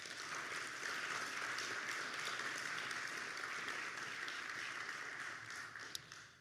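A crowd at a signing day event applauds sponsors and supporters, a faint, even roar of clapping that holds steady throughout and eases slightly toward the end.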